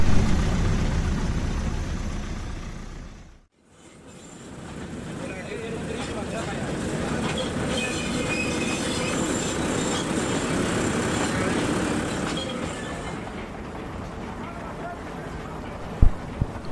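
A rumbling engine and wheels of a narrow gauge rail bus in eastern Cuba running steadily, cutting out briefly near the start, then droning on with a rattling clank at the end.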